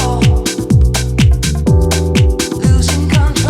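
Electronic dance track "No Control" from the Amore EP on Freeborn Records, playing back in Ableton Live 12: loud, dense mix with punchy kicks, deep descending bass slides and bright synth chords, steady and continuous.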